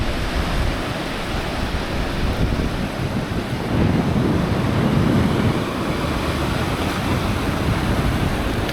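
Irish Sea waves washing onto the shore, a steady broadband rush of surf mixed with wind buffeting the microphone, swelling slightly midway and continuing without pause, no voices.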